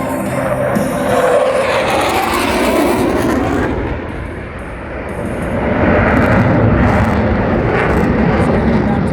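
An RAAF F/A-18 Hornet fighter jet flies a tight 360-degree minimum radius turn at an air show, its engine roar loud and broad throughout, dipping briefly midway before swelling again.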